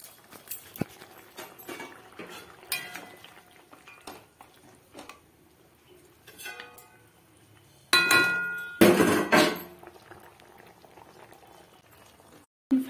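Mustard chicken gravy bubbling in a covered pot, with scattered popping and sputtering, light clatter, and a couple of louder bursts of bubbling and lid or spoon noise partway through.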